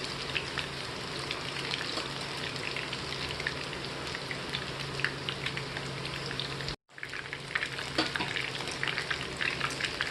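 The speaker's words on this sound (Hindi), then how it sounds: "3 मिनट फ्राई करने से हाई फ्लेम पर ये हो जाता है एक साइड से।" Fish pieces fry on a high flame in hot oil, giving a dense, even crackling sizzle close by that runs steadily and drops out briefly for a moment before resuming, no one speaking.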